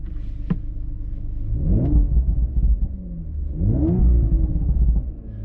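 A car with a stock valved exhaust, switched to sport mode and sitting in park, gives two rising revs over a deep rumbling idle, with faint crackles as each rev falls away.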